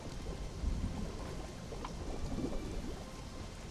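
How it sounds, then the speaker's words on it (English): Rumbling thunder in the video game Conan Exiles, a low continuous roll with a slightly louder swell near the start, heard alone over steady rain-like ambience. "I thought I heard a roar of a creature, but it must have just been thunder"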